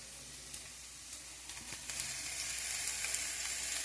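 Onions for egg bhurji fry in a pan with a quiet, even sizzle that grows slightly louder partway through. Occasional small crackles and light stirring sounds break it, and no one talks.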